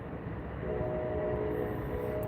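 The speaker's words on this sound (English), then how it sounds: "I hear some horns, but that sounds like CPKC trains." Distant CPKC freight train horns sound at a rail junction, a sustained tonal blast entering after a moment over a steady outdoor rumble, faint and far off with no talking.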